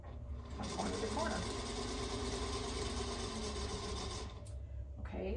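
Sewing machine stitching a quilt block from corner to corner, a steady continuous motor whir running evenly for about four seconds before stopping, close and loud.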